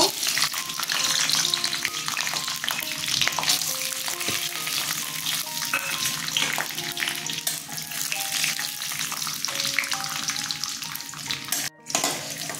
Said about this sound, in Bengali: বাদামগুলো ভাজা হয়ে গেছে